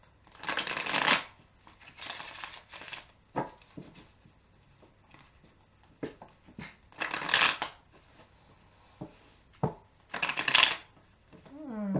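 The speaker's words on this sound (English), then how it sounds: "Not good shuffles today." Cards are shuffled in several quick riffling bursts separated by pauses, close and crisp, with occasional soft handling sounds between.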